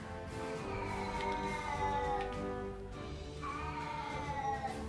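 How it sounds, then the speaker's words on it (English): A house cat meows loudly and persistently, drawn-out wavering cries following one another close by for several seconds. "My cat likes to be vocal sometimes."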